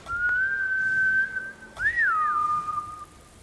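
A character in the video game Ghost of Tsushima whistles a steady sustained tone, breaks off briefly, then gives a wavering rising-and-falling whistle settling into a lower held note, clear and close with no talk.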